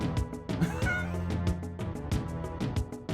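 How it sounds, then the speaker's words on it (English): In the Final Fantasy VI video game, a cat meows among regular beats of chiptune-style game music; the meow is brief and sits under the music, with no speech. "Look at this cat, though. it's just a cat."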